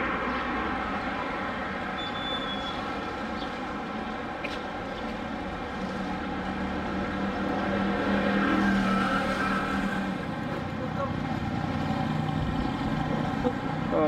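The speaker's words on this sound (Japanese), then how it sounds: "通りは結構ね、交通量激しいんで結構騒がしくなるんだけど" Traffic rumbles steadily along a busy street in central Vientiane, Laos, with passing cars and engines swelling and fading in a continuous wash of noise.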